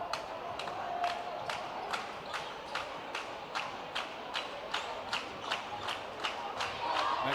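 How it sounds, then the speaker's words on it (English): Cheerleaders at a high school boys basketball game clap in a steady, evenly spaced rhythm of sharp claps, heard at a moderate distance over a constant murmur of gym crowd noise. "That clapping is from the Blackman cheerleaders calling on some D down here on this end"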